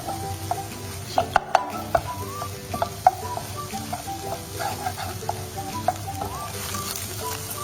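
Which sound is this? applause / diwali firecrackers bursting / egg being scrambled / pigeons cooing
egg being scrambled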